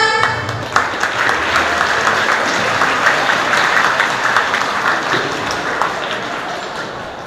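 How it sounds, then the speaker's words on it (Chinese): Audience applause at a club showcase performance, loud, dense clapping from a crowd that rings out steadily for several seconds before gradually fading toward the end. "来，掌声。"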